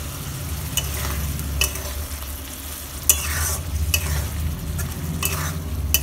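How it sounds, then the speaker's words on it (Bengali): Egg bhujia curry is stirred in a pan with ghee as garam masala paste goes in. Loud, close spatula scrapes come repeatedly over a steady frying sizzle and a low burner rumble. "ঘিটা দিয়ে ভালো করে নেড়ে চেড়ে তারপর আমি দিয়ে দিচ্ছি"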